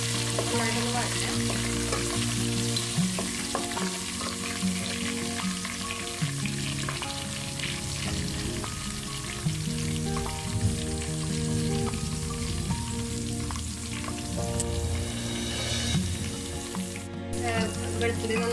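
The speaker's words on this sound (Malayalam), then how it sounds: "2 തണ്ട് കറിവേപ്പില നമ്മൾ ഇട്ട് കൊടുക്കുന്നത് അത് ഇട്ട് കൊടുക്കാം. നന്നായിട്ടൊന്ന് വഴറ്റാം." Two sprigs of curry leaves sautéing in oil for Kerala-style gooseberry pickle, a dense, crackling sizzle with occasional stirring scrapes, running continuously beneath steady tonal background music.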